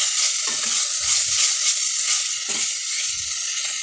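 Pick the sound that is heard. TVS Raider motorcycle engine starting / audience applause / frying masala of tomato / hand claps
frying masala of tomato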